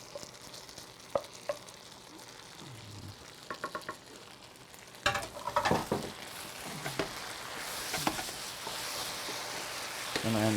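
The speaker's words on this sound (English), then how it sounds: "Now I'm going to add some of my rice back in here to finish cooking it" Wild mushroom risotto rice cooking in a pan, a faint sizzle with scattered stirring clinks and scrapes that grow busier and louder midway, close up.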